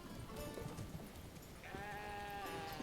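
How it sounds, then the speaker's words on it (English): Sheep in the medieval village-building game Manor Lords bleat twice, each a drawn-out wavering cry over a steady background of outdoor ambience. "I wonder if you can hear the sheep."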